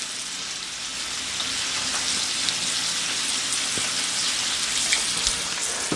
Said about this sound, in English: I'm going to stick this into the pan and sear it